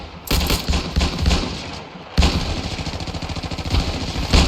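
Rapid gunfire in the Ravenfield video game's World War I trench warfare battle, a dense run of sharp shots with a short lull, then a steady rapid series of cracks, loud and close with no talking.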